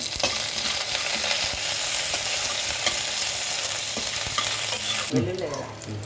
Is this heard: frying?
yes